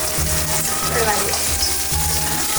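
Onion hits a hot pan for Gujarati rice-flour noodles, a loud continuous sizzle and crackle with rhythmic scraping and stirring, close by.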